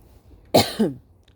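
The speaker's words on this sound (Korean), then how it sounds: "죄송합니다. 기침이 나왔어요." A single sharp cough followed quickly by a second, softer rasping hack, close up, with quiet room noise before and after.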